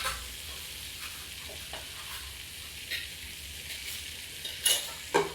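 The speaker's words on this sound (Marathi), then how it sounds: "आपलं बटर जळू नाही म्हणून त्यात मध्ये म्हणजे मी तेल टाकत आहे" Butter with oil poured in sizzles and fries steadily in a pan for a hotel-style vegetable kofta curry, with a few stirring scrapes and two sharper clinks near the end.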